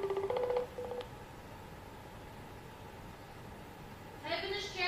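A phone call rings out unanswered on a handset: a short series of dial tones opens, followed by a quiet stretch of line hiss, then a ringing tone sounds again near the end.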